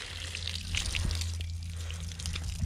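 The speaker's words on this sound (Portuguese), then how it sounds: "Pode jogar água na quina dela aqui." Water poured over a sweating mare's neck and shoulder, a steady wet splashing and trickling that runs close and moderately loud for the whole stretch, with a low hum beneath.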